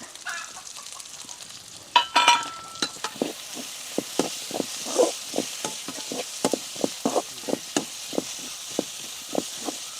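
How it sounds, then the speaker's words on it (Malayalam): Chopped onion and slit green chilies stirred in a frying pan for a Kerala-style chicken curry, a steady low sizzle broken by a regular series of sharp scraping strokes, close and clear with no talking. "ഈ പച്ചമുളകും ഉള്ളിയും ഒരു കളർ മാറി വരട്ടെ, അതുവരെ നമുക്ക് ഇളക്കി കൊടുക്കാം"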